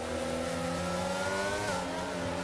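Racing cars, among them a McLaren, scream past in a simulated race at a Spanish circuit, with engines holding a high, steady whine whose pitch bends as a car goes by.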